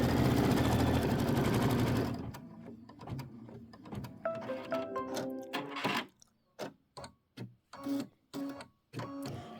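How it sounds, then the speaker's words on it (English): Embroidery sewing machine stitching a placement line on black fabric backed with shape flex, heard as a steady mechanical whir that breaks into short rhythmic bursts of needle strokes and pauses. "stitch the spider placement line"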